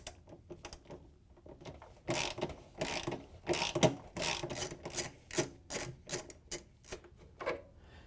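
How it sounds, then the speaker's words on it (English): A ratchet with a 13mm socket turns out a bolt and washer holding a shock absorber on a Samsung washer tub, rapid clicking bursts of pawl ratcheting in uneven runs, close and clear with no talk. "We're going to use the 13mm socket with the ratchet to take them out."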